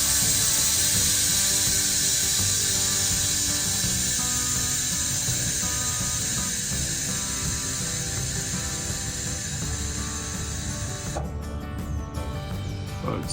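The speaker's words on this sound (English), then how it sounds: "You'll hear the air dump out." A steady, loud hiss of air rushes out of Air Lift LoadLifter 5000 suspension air bags as pressure is dropped, close up and sustained, then cuts off abruptly near the end.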